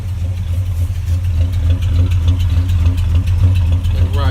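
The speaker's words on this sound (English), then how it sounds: "it's sitting there loping, just nice and easy" A 1965 Chevy pickup engine with dual exhaust idles with a deep, uneven loping rumble, steady and close, the exhaust pulsing in a slow lumpy rhythm.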